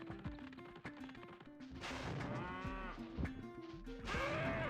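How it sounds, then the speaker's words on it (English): Cow-elephant creatures in the Spyro 2 video game letting out repeated low, drawn-out moos that overlap, with game effects and chimes mixed in. "We gotta get this guy's cow elephant things."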